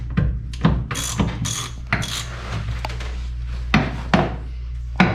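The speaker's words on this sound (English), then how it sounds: "loosen up the set screws on the back" Set screws loosened on the back of an Anderson hitch, with a series of loud, close ratcheting clicks in short bursts and a low mechanical hum underneath, no talking.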